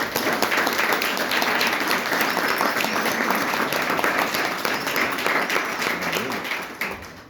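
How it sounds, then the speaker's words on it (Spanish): An audience at a secondary school event applauds students who entered a drawing contest, steady dense clapping filling the room for several seconds before tapering off near the end. "les pido un aplauso para ellos"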